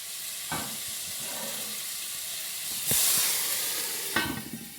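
Herb-seasoned pork roast, golden and fragrant with rosemary, sizzles and hisses steadily in a hot pan. The sizzle swells loudly after it is turned, and clunks from handling mark the turn.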